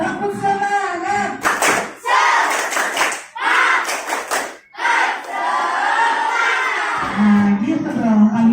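A class of children doing a rhythmic cheer clap, bursts of loud group clapping and shouting alternating with a teacher's voice in a classroom setting.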